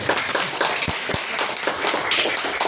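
An audience claps to welcome a doctor to the stage at a clinical-trials talk on sea buckthorn, with a steady patter of hand claps plus a few sharper nearby claps.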